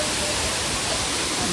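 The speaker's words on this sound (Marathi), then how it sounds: "या ठिकाणीवरनं धबधब्याचे सर्व पाणी खाली जात आहे. पाण्याचा प्रवाह भरपूर आहे" Water of the Ghonsari waterfall rushes down in a heavy, steady roar, loud and continuous, a dense broadband wash with no pauses or other sounds.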